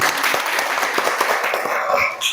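A classroom audience applauds, a short, close, steady patter of many hands clapping with faint voices in the room.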